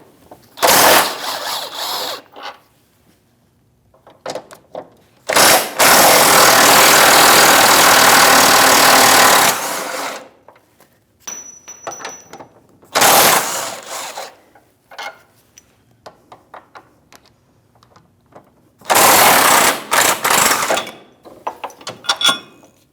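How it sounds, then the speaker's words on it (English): Power tool with an 18mm socket spinning off the bolts of a Chevrolet Malibu rear trailing arm bracket, four loud close whirring bursts of a few seconds each, separated by quiet gaps with faint clinks. "we're going to dismount the 4 holding bolts to that body. And it's an 18mm socket."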